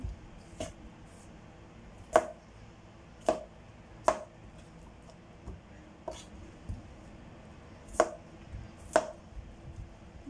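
A knife cutting peeled, washed stem lettuce into thin slices on a board: eight or so sharp, quiet taps spaced about a second apart, close and alone with no talk.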